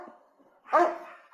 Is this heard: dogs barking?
yes